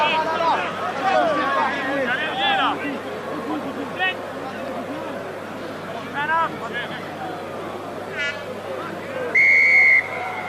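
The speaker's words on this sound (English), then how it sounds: "Whistle is gone. Referee wants to start again here." Referee's whistle at a 1991 Rugby World Cup match between France and Canada, a sharp steady blast near the end, rising above constant crowd hubbub and a commentator's voice, with a couple of shorter whistle-like chirps earlier.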